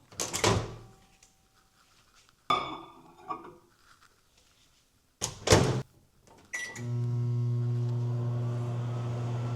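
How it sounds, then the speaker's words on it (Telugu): Microwave oven heating a bowl of beaten eggs with milk: a few sharp door and handling clunks, then the oven starts with a beep and settles into a steady, loud electric hum. "ఈ బౌల్ని ఒక 30 సెకండ్స్ మైక్రోవేవ్లో హీట్ చేద్దాం."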